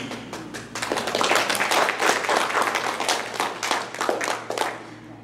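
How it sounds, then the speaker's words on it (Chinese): An audience at a community talk in the Taiwanese Center of Greater Los Angeles claps warmly for the speaker, a dense, steady round of applause that swells and then tapers slightly. "我们再一次给我们的这个国大代表杨嘉佑一个热烈的掌声哦"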